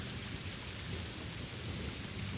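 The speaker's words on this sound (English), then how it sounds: "Soon, a thundering and thrashing storm arose." Heavy rain pours steadily in a thunderstorm while low thunder rumbles continuously underneath, dense and enveloping with no voices.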